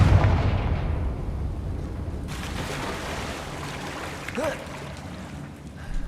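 A Confringo blasting spell goes off in Hogwarts Legacy, a loud booming burst at the start that rumbles and fades over several seconds, with a later faint whooshing accent and quieter game ambience.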